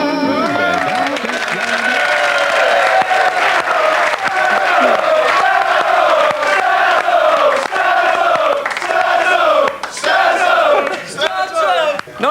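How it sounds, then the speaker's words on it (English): A large crowd roars and cheers for Klinsmann in a loud, sustained swell of many voices, with shouts rising and falling, during a VE Day celebration. "Nice for that cheer for Klinsmann."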